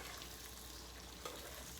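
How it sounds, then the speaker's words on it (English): Pasta being stirred through a sizzling brown butter and pasta water sauce for pumpkin ravioli: a soft, steady frying hiss with faint scraping of stirring, quiet and continuous with no talk. "Just gonna keep stirring so the gluten from the pasta actually mixes with the butter and the pasta water."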